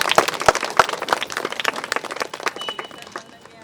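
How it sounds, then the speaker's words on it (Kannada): An audience at a fourth-anniversary program in Swanth Colony breaks into loud, sharp clapping that fills the room, dense at first and thinning toward the end, with some voices underneath. "ಜೋರಾಗಿ ಚಪ್ಪಾಳೆ ಹೊಡ್ಕೊಳ್ಳೋಣ."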